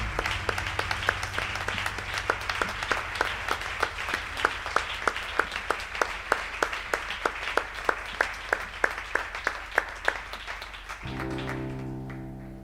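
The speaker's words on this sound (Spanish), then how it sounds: "Vamos a dar un aplauso al Señor." A church congregation claps together in a steady, even rhythm for about eleven seconds over a soft sustained background tone, then the clapping stops and a held keyboard chord remains alone.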